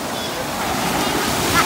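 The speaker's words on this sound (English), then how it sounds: "So we at the beach. It's nice. Look at the sunset. Look at the water." Ocean waves wash steadily onto the sand at Orange Beach at sunset, forming a continuous broadband surf hiss with some wind noise and a slight swell near the end.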